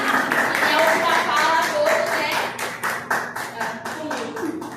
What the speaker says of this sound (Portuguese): E para encerrar, aplausos.